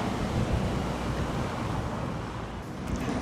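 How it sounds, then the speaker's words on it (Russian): Strong whistling wind at Dubai Marina roars steadily across the microphone, a dense continuous rush with low buffeting rumble, no voices present. "Сильнейший ветер свищет."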